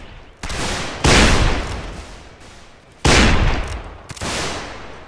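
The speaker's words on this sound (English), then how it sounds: "These guns sound way cooler than Napoleonic" Black-powder musket volleys ring out in the Civil War video game North and South during a line battle, two loud crackling rolling fusillades a couple of seconds apart, each trailing off into echo.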